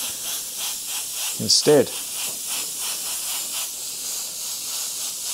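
An airbrush sprays white paint onto paper in a steady, close, continuous hiss that runs the whole time, with a brief spoken word cutting in partway through.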